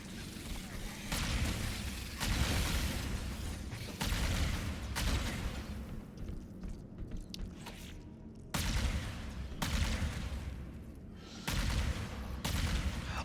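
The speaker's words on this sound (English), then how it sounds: "it's a burst fire, I just noticed. I can't fire just one shot. It always fires a burst." Repeated bursts from a plasma rifle in the Halo Combat Evolved campaign, each volley a loud, dense crackle of several shots lasting about a second or two, separated by short gaps, with game ambience underneath.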